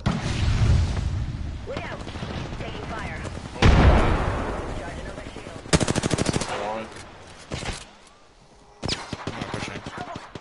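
Gunfire in the battle royale game Apex Legends crackles in rapid automatic bursts and sharp single shots, with a couple of heavy booms, interrupted by pauses while players talk over the action.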